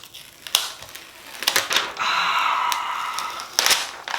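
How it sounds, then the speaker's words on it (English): Plastic and cardboard packaging of a Microsoft Surface Go is peeled back by hand, giving sharp crackles and a sustained crinkling tear in the middle, close and fairly loud, with no talking. "And let's peel back this packaging."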